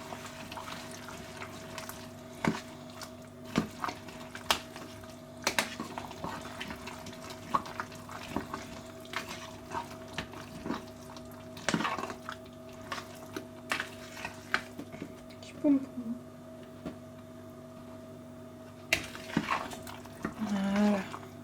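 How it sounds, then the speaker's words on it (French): A courgette bread batter with breadcrumbs, salt and pepper being stirred in a bowl, giving soft scraping and clinking taps at an uneven rhythm, close by and fairly quiet, with a low steady hum underneath. "On remue bien le tout."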